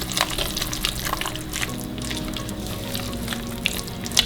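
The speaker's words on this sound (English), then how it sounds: "Stir that around, give it a good stir." A spoon stirs a thick cheese and spice filling for stuffed shells in a bowl, making steady, soft wet scraping and clicking that runs through the whole moment with no talking.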